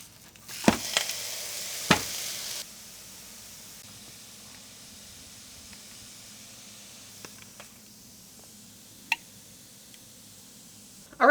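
A damp towel sizzles on a hot Dash Mini Waffle Maker with the lid closed: a loud steamy hiss with a few sharp pops for about two seconds, then a softer ongoing hiss dotted with faint ticks.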